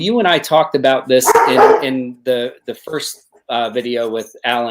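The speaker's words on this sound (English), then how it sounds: "That's my dog barking in the background." A pet dog barks in a household, its short yaps partly masked beneath an ongoing conversation between several people talking over it.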